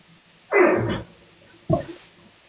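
A dog lets out two short, fairly close barks about a second apart, with quiet room sound before and between them.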